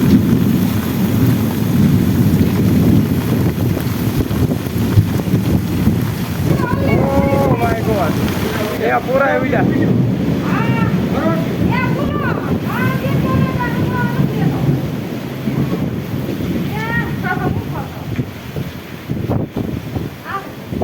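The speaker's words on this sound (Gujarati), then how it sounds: "અરે અત્યારે તો ખાલી વાવાઝોડું જ આવ્યું છે, હજી તો વરસાદ બાકી છે" Strong windstorm wind roars and buffets the microphone in a constant low rumble while someone talks over it; no distinct thunderclap stands out.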